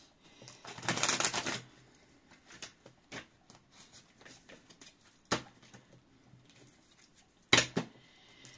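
Cards being shuffled indoors, a longer riffle burst at the start followed by soft sporadic rustles and a couple of sharper slaps, quiet and close.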